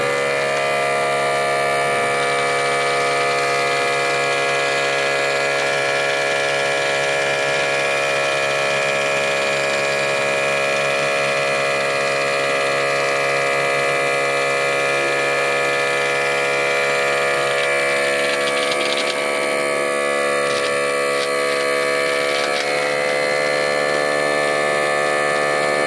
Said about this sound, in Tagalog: Nag-turn on yung compressor.